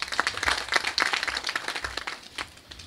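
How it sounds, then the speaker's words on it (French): An audience claps in applause at a university reception, a dense patter of many hands that swells and thins over a few seconds without voices. "je vais demander à l'audience de l'applaudir"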